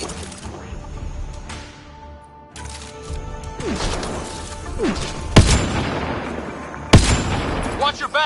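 Gunfire in the sci-fi shooter Mass Effect Andromeda, irregular sharp shots and blasts including two loud bangs over a busy layer of combat effects and game chatter.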